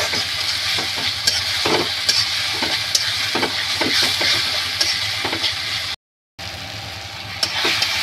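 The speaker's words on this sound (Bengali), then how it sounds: "2-4 মিনিট করে মশলাটা পেস্ট করা মশলা আমি কষিয়ে নিয়েছি" Spice paste frying and being stirred in a pan for a pangas fish curry, a steady close sizzle broken by repeated scraping strokes of the spoon, with a brief gap near the end.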